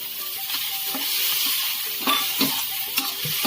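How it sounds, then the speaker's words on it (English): Bell peppers and carrots are stirred in a hot pan with tomatoes and cumin, a continuous sizzle punctuated by repeated scraping strokes and soft clinks of the spoon, close and moderately loud, with no voices. "we will mix them well"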